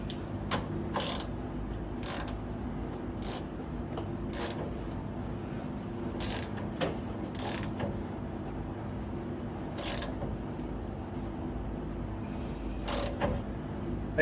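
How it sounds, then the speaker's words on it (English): A ball joint puller is worked against the steering linkage of a 1956 Ford F-100 pickup, giving sharp, intermittent ratchet clicks in short separate bursts over a low, quiet background hum. "So this is a ball joint puller. Let's see if that'll work."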